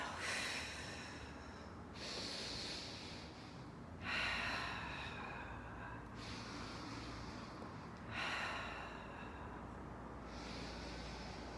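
During an intermediate Pilates mat workout with a magic circle, a person takes audible breaths in a steady cycle, with about three strong exhales spaced a few seconds apart, close and clear over a soft background hiss.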